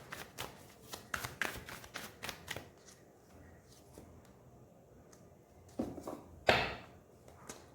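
A deck of tarot cards is shuffled up close in a rapid run of crisp riffling flicks, then a pause and a few louder slaps and taps as the cards are squared, no talk.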